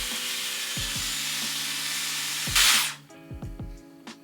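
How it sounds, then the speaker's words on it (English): A short burst of medium hold hairspray from an aerosol can, sprayed onto curled fine hair, rising over a steady hum of background noise and followed by faint clicks and light handling sounds. "I just had to add a little bit of hairspray. I use medium hold spray."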